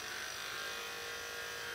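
Shed Pal pet grooming system motor buzzing steadily as it is dragged over a dog's coat, a faint continuous electric whir throughout the short moment, with no talk.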